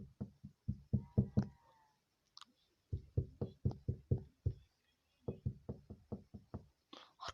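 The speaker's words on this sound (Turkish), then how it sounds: "Arkadaşlar kapı çalıyor." Several bursts of firm knocking on a wooden door in the game Minecraft, quick raps in groups with short pauses between, close and distinct.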